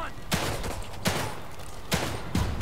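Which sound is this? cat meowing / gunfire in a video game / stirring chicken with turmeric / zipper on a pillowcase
gunfire in a video game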